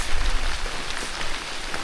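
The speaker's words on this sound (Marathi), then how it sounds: "भारी वाटते ना, पाऊस पडतो" Rain pours on a village farm path lined with green trees, a steady close hiss of drops hitting surfaces with slight low thumps and no voices.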